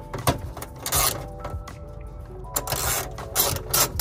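A ratchet wrench loosens 10 mm bolts on the underbody plate of a GR86 during an oil change, giving several close bursts of quick clicking with short pauses between, without talk.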